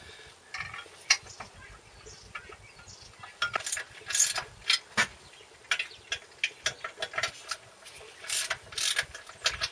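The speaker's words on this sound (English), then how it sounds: "you need to try and tighten down the clutch cover bolts evenly" A ratchet tightening clutch cover bolts on a Land Rover Series 3 during a gearbox swap: rapid metallic clicking bursts, close and loud, repeating in short runs through the second half after quieter handling noises.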